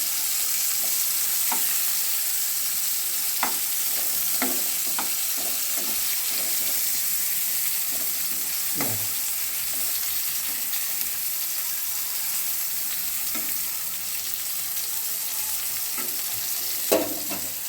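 Spiny gourd (kankrol) slices frying in hot oil, a steady sizzle running throughout with occasional sharp crackles and spatula scrapes against the pan, close and continuous.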